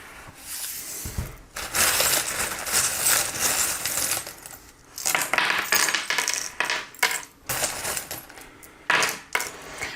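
Small metal charms cast and shaken onto a table for a divination reading, a dense close clatter of clinking and jingling pieces rising and falling in bursts for several seconds, no voices.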